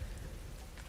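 Soft, steady rainfall from the film Blade Runner 2049, a brief wash of dense pattering hiss at moderate level with no voices.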